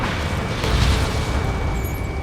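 Missile launch from a fighter jet in Ace Combat 7: Skies Unknown, the air-combat video game: a loud, continuous, deep rushing roar that stays steady for about two seconds.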